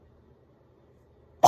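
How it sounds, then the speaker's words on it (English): A single short cough bursts out at the very end after near silence, close and loud. "sorry, I keep coughing"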